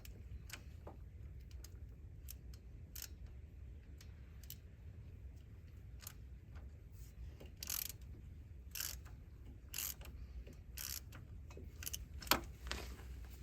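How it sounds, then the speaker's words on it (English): A ratchet wrench tightening front hub bearing bolts on a 4WD 1999–2007 Chevy Silverado, giving short bursts of crisp clicking spread over a steady low rumble, with no talking. "Once you get your 3 bolts started, then you can go ahead and tighten them up."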